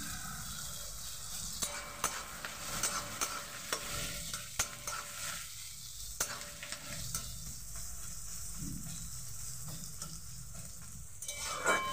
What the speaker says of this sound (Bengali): পেঁয়াজটাকে সুন্দরভাবে ভেজে নেব।